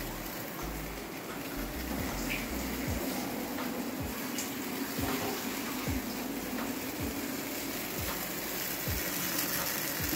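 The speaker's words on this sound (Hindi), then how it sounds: "ये पक रहे हैं, तो थोड़ा पानी डाल देती हूँ" Water poured into a pan of cooking bitter gourd and chicken on a stove, producing a steady hissing sizzle with rhythmic bubbling pops throughout, close and continuous, with no talk.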